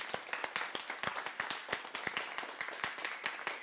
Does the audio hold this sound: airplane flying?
no